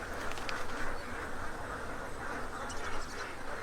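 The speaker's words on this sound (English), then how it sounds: "Birds crowd around one of the few remaining shallow pools of water." Birds gather at a shallow pool of water in hot, dry weather, making faint quacking calls among a steady buzz of insects in an open outdoor setting.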